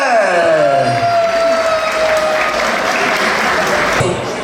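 Gala audience in Montreal applauds, loud continuous clapping with some cheering and a ringing musical tone gliding underneath.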